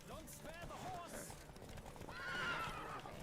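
Horse hooves clip-clop quickly at a gallop in The Witcher 3: Wild Hunt video game while a horse whinnies, with voices talking faintly underneath.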